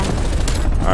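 Dense, loud FARA assault rifle fire in a video game, a continuous close rattle of shots mixed with booming explosions and battle noise, with a voice briefly underneath.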